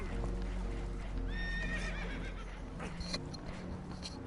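Horses whinny and neigh in rising, shrill calls over steady clip-clop and a low rumble, with faint talk, aboard a damaged boat taking on water in the video game Red Dead Redemption 2.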